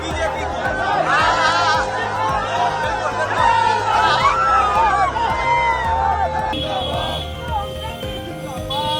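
Crowd at a political rally, a loud continuous babble of many voices with chatter and scattered shouts throughout, fairly close and dense.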